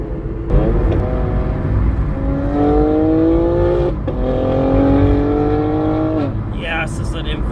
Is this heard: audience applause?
no